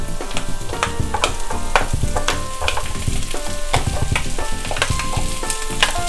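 Three sliced tomatoes drop into oil with sautéed onions for a Malabar-style chicken dish. A loud, dense sizzle runs throughout, punctuated by frequent sharp spatula scrapes and stirring clatter close by, with no voices.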